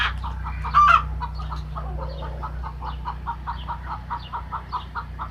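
Chickens on a rural property with turkeys and ducks nearby, one loud squawk early then steady rhythmic clucking repeating throughout at moderate distance, with a low background hum.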